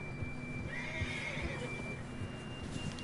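A horse neighing in the open-world western game Red Dead Redemption 2, a single high whinny that rises and trails off, heard moderately close over a continuous background noise bed.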